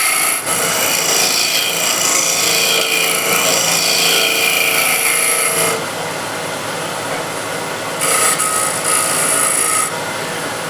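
A skew chisel shears the side of a wooden bowl's base on a lathe, a steady close rasping hiss that runs continuously, drops in level at the midpoint, then swells again in short bursts.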